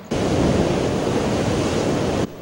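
Large storm surge waves crash against houses in Barangay San Pedro, Narvacan, Ilocos Sur, a loud, dense continuous roar of surf that starts abruptly and cuts off near the end, with no voices.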